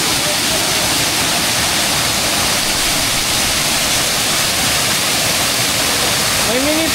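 A small mountain waterfall roars loud and steady with a constant broadband rush, close by; a voice briefly speaks near the end.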